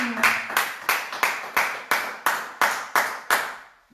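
A church congregation claps in unison, about ten sharp, evenly spaced beats in a steady rhythm, each clap ringing briefly in the room.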